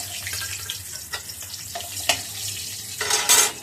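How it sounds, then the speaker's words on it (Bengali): Fenugreek seeds and bay leaves dropped into hot leftover fish-frying oil give a soft, steady sizzle with occasional stirring scrapes and clinks close by, ending in a brief louder hiss. "মেথি ফোড়ন আর তেজপাতা দিয়ে দিলাম।"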